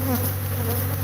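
Killer bees buzzing loudly and up close, a steady dense drone from the swarm that holds unbroken throughout, with no voices.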